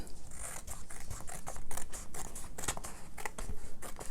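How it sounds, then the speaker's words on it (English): Scissors snip through paper to cut small pockets for an envelope journal, a steady series of close, crisp cuts with faint rustling between them and no voices. "So you're just cutting just a little bit."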